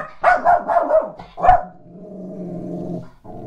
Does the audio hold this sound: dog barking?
yes